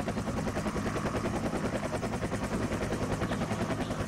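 A squad firing together at a bush in the Project Reality video game, a steady, continuous rattle of rapid gunfire, loud and dense throughout without pauses, no voices heard.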